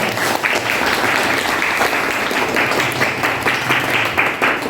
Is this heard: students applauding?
yes